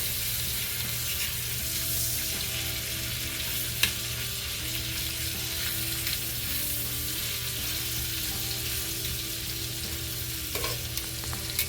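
Lobster and salmon fry in a butter and garlic sauce inside a vertical log cabin, giving a steady close sizzle with occasional stirring clinks and no talk.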